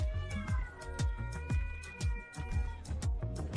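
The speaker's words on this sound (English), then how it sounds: "the cat began to scream unhappily" A cat cries out unhappily right after its stitches are removed, giving a rapid run of loud, close yowls and meows in quick succession, each with a sharp onset.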